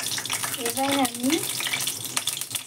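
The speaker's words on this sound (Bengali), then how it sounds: "বিনসটা দিয়ে দিলাম। বিনস বেশি ভাজবো না, হালকা করে কষিয়ে নেব" Beans frying in a pan for khichuri, a close, continuous sizzle with stirring, and a voice briefly heard partway through.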